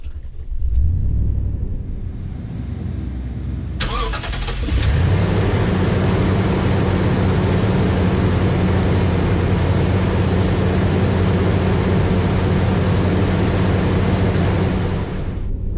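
A car engine with a hesitant start-up problem cranks briefly, then catches around five seconds in and settles into a steady, loud idle rumble that continues alone to the end.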